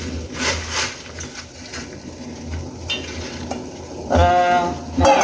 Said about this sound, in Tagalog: Kumukulo na. Lagay na natin ang talbos ng kamote.